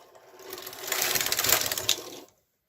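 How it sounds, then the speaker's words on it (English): A KR 230 knitting machine carriage swept across to knit rows of a long belly band, a short rising mechanical whirr and clatter lasting about two seconds before stopping, close and fairly quiet. "so now we will knit some more rows here."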